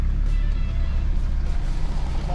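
A car swings through a U-turn on a dirt track in the Victorian High Country, its engine a continuous close, loud rumble with no clear speech over it.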